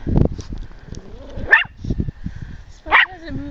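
Four-month-old puppies playing in the snow during an April snowstorm, giving several sharp close yips and barks with whimpers between them.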